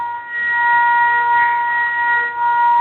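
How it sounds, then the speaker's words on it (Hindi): A steady electronic siren from a neighbouring Indian Oil Corporation plant drones on in sustained tones, heard indoors from a nearby home at moderate loudness with no talk. "यहाँ पर मेरे घर के बगल में इंडियन ऑयल कॉर्पोरेशन है, उसी का सायरन बजना स्टार्ट हो गया है"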